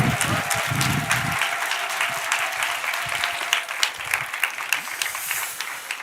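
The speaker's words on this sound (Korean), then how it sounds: "우리 나오실 때 큰 박수와 환호성으로 맞으시기 바랍니다" A young-adult congregation at a joint Sunday worship service claps and cheers to welcome the senior pastor. The applause is steady and fairly loud, a dense wash of many hands that continues throughout.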